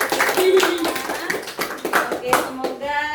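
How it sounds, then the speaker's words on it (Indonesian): Children clapping hands in a group activity, a run of sharp irregular claps mixed with voices speaking and laughing, fairly close. "Oke, tepuk tangan."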